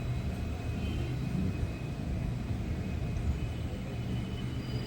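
The Chennai Egmore Express pulls out of Sengottai railway station, a steady low rumble of rolling coaches heard from on board, continuous and fairly loud with no voices.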